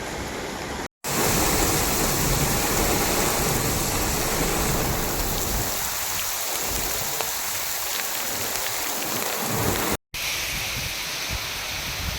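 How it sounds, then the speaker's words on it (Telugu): Heavy rain from Cyclone Fengal lashing Sullurupeta, driven by gusty wind: a loud, steady, dense roar that swells and eases, with two brief dropouts. "తుపాన్ ఈ రోజు తీరం దాటే అవకాశం ఉండటంతో ఈ ప్రాంతంలో ఎడతెరిపి లేకుండా వర్షాలు పడుతున్నాయి"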